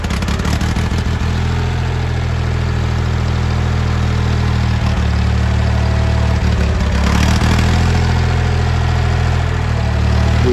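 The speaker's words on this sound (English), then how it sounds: "once it gets the fuel in the float bowl, it'll fire right up again" A Ford 2000 tractor engine cold-starts and settles into a loud, steady low idle with a few brief cranking bursts at the start.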